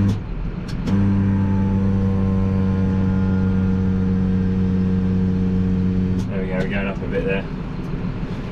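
Farm tractor engine idling steadily with a low droning hum and harmonic tone, then cut off near the end, with a person talking nearby over the running engine.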